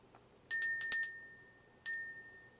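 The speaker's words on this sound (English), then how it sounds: "ring the bell, clear the energy" A small bell rung to clear the energy, four quick bright dings in a cluster followed by a single ring after a pause, each with a short shimmering decay in otherwise silent surroundings.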